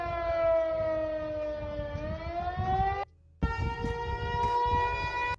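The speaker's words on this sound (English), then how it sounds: "Sirens going off in Old Harbor." Wailing tsunami warning sirens in Old Harbor, Alaska rise and fall steadily at a distance, cutting out briefly once before resuming, with no talking.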